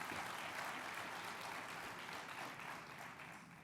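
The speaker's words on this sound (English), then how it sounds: "Let's give them a round of applause." Sustained applause from an audience at an urban education conference address, a dense, even wash of clapping lasting throughout at steady loudness, easing slightly toward the end.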